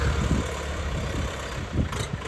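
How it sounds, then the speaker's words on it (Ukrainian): A EuroFENG 50 hp tractor diesel engine rumbles at idle, a steady, fairly loud low drone that swells slightly as it begins to move off, with no talking. "Тракторець 50-сильний е, Єврофенк. Зараз він з'їде."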